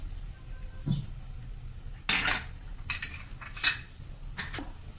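Chopped garlic and ginger go into a pan of hot oil. A utensil clinks and scrapes against the pan, sharp clatters mix with a low sizzle, and there is no talk.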